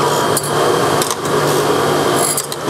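Carbide cutter grinding stone in a skinny groove on the last pass, a steady loud gritty whir with brief sharper bursts where the bit bites.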